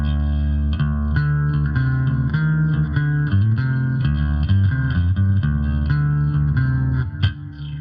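A Squier Affinity Jaguar H bass plays a clean-toned line through echo effects, Terra Echo and Space Echo, with repeats trailing behind each note; the playing is steady and fairly loud, with no talking.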